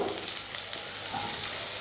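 Onions sizzling and crackling in hot oil, a steady hiss that stays fairly soft throughout.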